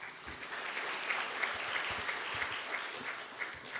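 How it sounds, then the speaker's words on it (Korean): A church congregation claps during a Sunday worship service, steady soft applause from many hands at a moderate distance, with no talking over it. "광고만 듣고도 박수 쳐주시고"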